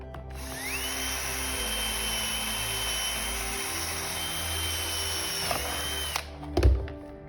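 A power drill bores rivet holes through clamped sheet-metal duct, a steady high-pitched whine running for about six seconds before winding down, followed by a few clunks of handling close by.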